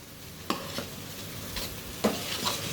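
Cooked rice with sesame oil or ghee and salt is stirred with a ladle, making a few sharp, close scrapes and knocks against the pot over a soft steady background, with no talking.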